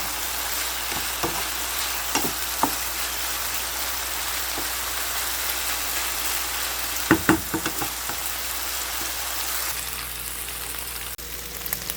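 Chicken saltado frying in a pan for a Peruvian pollo saltado, a steady sizzle broken by several spoon scrapes and clinks as it is stirred, with a cluster of knocks midway.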